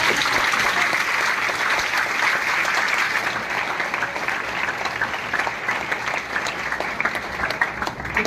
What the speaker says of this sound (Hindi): तो इन दोनों के लिए भी जोरदार तालियां बजाओ।